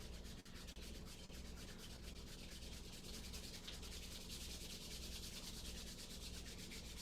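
Steady dry rubbing of palms together and soles of the feet together during a yoga session, a continuous close, soft friction swish lasting several seconds with no talk.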